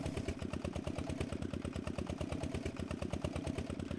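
Tractor engine idling in the Professional Farmer 2014 farming game, a steady close rumbling chug with even rapid firing pulses throughout and no talk.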